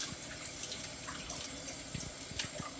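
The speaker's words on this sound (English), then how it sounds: "So, I'm going to rinse the whole celery off." Tap water runs steadily over a whole head of fresh celery in a sink, a close, even splashing stream with small knocks as the stalks are handled.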